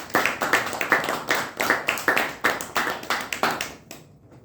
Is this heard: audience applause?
yes